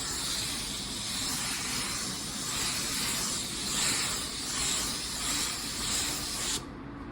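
Steady spray-can hiss of coarse metallic paint onto a car bumper, running continuously for several seconds, close and fairly loud with slight surges, then cutting off near the end.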